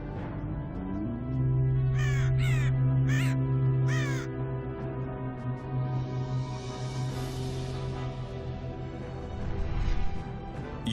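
Several loud crow caws ring out in quick succession from a Warcraft III druid of the crow unit, heard over a sustained low musical drone and a rising whooshing swell.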